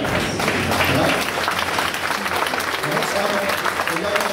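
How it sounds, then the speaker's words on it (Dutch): Applause fills a Dutch stage show, dense and steady across the whole stretch, with voices faintly mixed into the crowd noise. "super applaus voor Shamaas, maar ook voor Hans Emmen"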